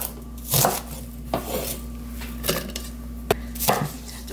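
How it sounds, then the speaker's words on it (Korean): A kitchen knife chops half an onion on a cutting board in five or six sharp, separate knocks spaced unevenly, close and fairly quiet. "조금만 푸른 부분만 조금만 잘라 놓을게요"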